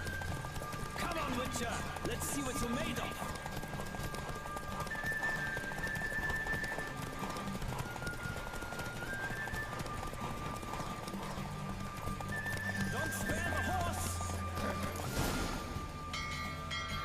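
A horse gallops in a race in The Witcher 3, a steady run of hoofbeats with a whinny and game sounds, while people talk over it.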